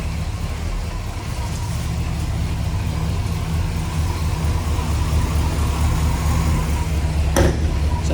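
A 1966 Pontiac LeMans convertible cruises along a highway, its engine holding a steady, continuous rumble beneath broad road and wind noise, with one brief sharp knock near the end.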